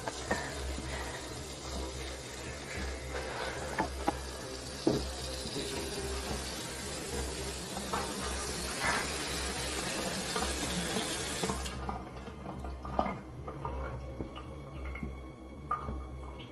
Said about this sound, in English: Oh my God, the water just turned on.